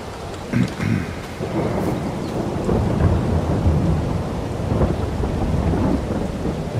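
Thunder rumbles low and heavy over steady falling rain in the video game Farming Simulator 22, a continuous stormy wash with no clear pauses.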